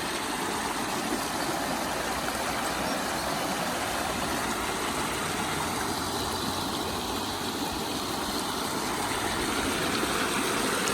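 A river flowing steadily as someone prepares to wade across it, a continuous broadband rushing wash heard close and loud for the whole stretch with no voices over it.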